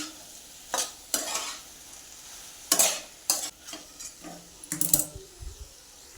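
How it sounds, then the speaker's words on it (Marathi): A spatula stirs brinjal with black masala in a hot pan: close, intermittent scraping strokes over a soft sizzle of frying, with short pauses between stirs and no voices. "मिक्स करून घ्यायचा आहे सगळा मसाला आपण"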